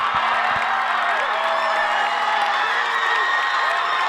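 Crowd noise at a high school powder puff football game at Blocksidge Field, Marblehead vs. Swampscott, a continuous loud wash of voices and cheering with scattered whoops and no clear speech on top.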